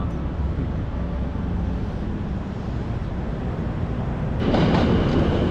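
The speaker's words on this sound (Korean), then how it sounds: "근데 이제 기차가 언제 올지 모르니까" A train rumbles steadily through a station in Tokyo, its low roar swelling louder near the end as it draws closer.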